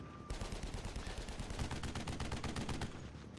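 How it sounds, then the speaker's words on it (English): Bertha units open fire in an AirMech Strike 1v1 match, a dense, rapid stream of sharp repeated shots that starts abruptly and rattles on at a steady, loud level. "Shadow losing the middle outpost now loses his advantage with his with the Berthas firing in"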